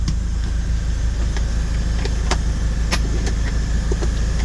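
A 2012 Toyota Commuter VIP van with a 2.5-litre diesel engine idling, a steady low rumble close by, with a few faint clicks and knocks over the constant drone.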